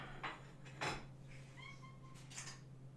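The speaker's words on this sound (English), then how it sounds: "Singing kitties, they're hungry." A few short meows from hungry cats nearby, scattered over a few seconds, with light clinks of dishes in the background.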